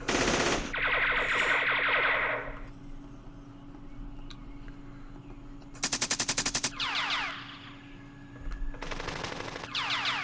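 Computer wargame machine-gun fire in Campaign Series Vietnam, coming as a long rattling burst, then two more rapid bursts a few seconds apart, loud and clean with a low engine-like hum between them and no talking.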